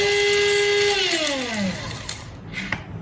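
A kitchen mixer grinder grinding spices such as cardamom and pepper whirs at high speed, its motor pitch dropping as it spins down, followed by faint clatter of the jar.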